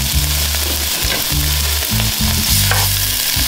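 Minced garlic and onion strips frying in a pan, a steady loud sizzle close up with rhythmic stirring scrapes throughout.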